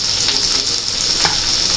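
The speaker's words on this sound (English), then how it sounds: "Now guys, let me add the paneer" Paneer cubes drop into a hot pan with potatoes for a Frankie roll filling, setting off a loud, steady sizzle and crackle that fills the whole moment, with a brief spitting burst partway through.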